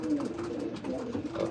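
Pigeons coo softly and continuously, close by, while being handled in a loft; the low, throaty murmuring is faint and steady with no talking over it.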